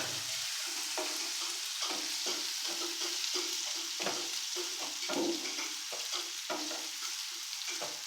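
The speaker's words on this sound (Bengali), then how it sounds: "দিয়ে দেবো পেঁয়াজ কুচনো, এটাকে একটু লাল লাল করে ভাজতে হবে।" Chopped onions sizzle and fry in a pan while being stirred, a steady crackling hiss broken by repeated scraping stirs close up, with no talking.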